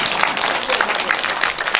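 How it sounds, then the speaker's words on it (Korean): Audience applause at a congratulatory speech during a Korea–Japan song contest, a dense, steady wash of many hands clapping throughout with no pauses, moderately loud and fairly close. "박수 주세요."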